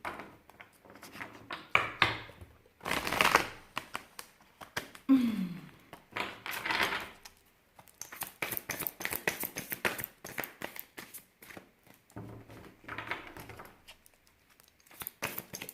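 Tarot cards are shuffled by hand, close and fairly quiet, with bursts of riffling, tapping and crinkly card contact separated by short pauses.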